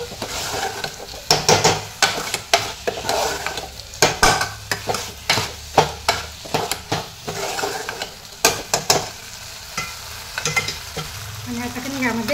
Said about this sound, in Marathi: असं 1-2 मिनिट तरी हे मसूर तेलामध्ये परतून घ्यायचे चांगलं.